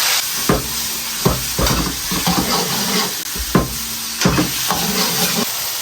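Tomatoes hitting a hot wok with oil, dried chili and garlic, loud sizzling with repeated scraping stir-fry strokes at an irregular rhythm.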